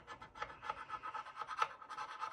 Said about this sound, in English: So what you're gonna do is you're gonna take your knife, you're gonna put it at a slight angle.